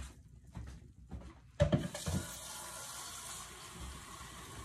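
Water being poured into a container while making kombucha. A few soft knocks come first, then a sudden splash settles into a steady, hissing stream of liquid filling the vessel, close and alone.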